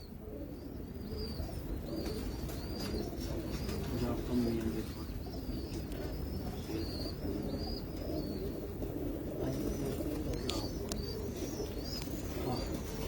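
Soft, low cooing from a group of champion pigeons, repeated throaty coos layered over a constant background hum, with faint chirps and a few brief higher sounds, fairly close.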